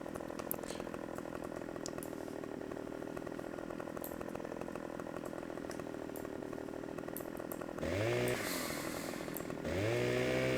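A chainsaw cuts a tree trunk in the Alpine setting of Farming Simulator 15, a steady buzzing motor drone that rises into revving bursts of cutting near the end, with no talk.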